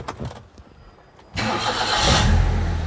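A used automatic car, apparently a Mercedes-Benz, starts up: a short starter crank, then the engine catches and settles into a loud, steady idle close by.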